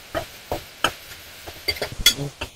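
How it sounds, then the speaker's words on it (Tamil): Dried red chillies, garlic, tomato and onion sautéed together in a pan, with a spoon scraping and stirring in scattered short strokes and light sizzling, fairly close and moderately quiet, no talk. "இப்போ வரமிளகா, பூண்டு, தக்காளி, வெங்காயத்தையும் ஒட்டுக்கா போட்டு வதக்குவோம்."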